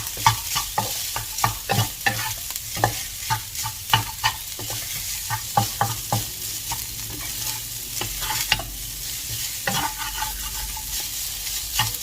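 Chicken fried rice seasoned with laab powder is stir-fried in a pan: repeated scraping and clanking of a spatula in a brisk, uneven rhythm over a low sizzle.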